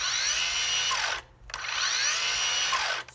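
A Makita cordless power head for a string trimmer spins up to a high-pitched electric whine, winds down briefly, then revs again; two close bursts of smooth motor whir with no engine rumble.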